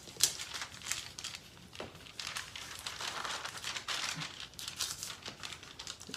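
Paper sewing pattern for a basic bodice being folded along a dotted line, giving steady close crinkling and rustling with a few sharper crackles, and no voice.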